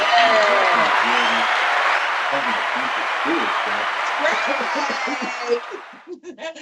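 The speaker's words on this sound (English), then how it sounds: "Let's give Ivory the Aries a round of applause" Sustained crowd applause on a talk show, loud and continuous for about six seconds before tapering off. Laughter and voices run underneath, and a voice speaks as the clapping ends.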